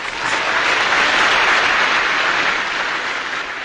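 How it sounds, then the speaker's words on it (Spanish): Crowd applause at a sound-system dance party in Mexico, a short, loud, steady burst of clapping lasting a few seconds. "Aplausos."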